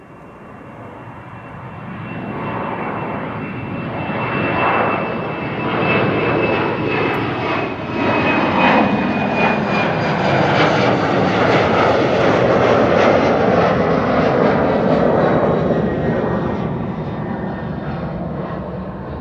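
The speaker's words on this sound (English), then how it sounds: "This is KLM flight 1233 to Göteborg. Embraer 190." A KLM Embraer 190 jet departs Amsterdam Schiphol, its engine roar swelling steadily into a loud, sustained rumble and whine that fills the whole stretch, alone without talk.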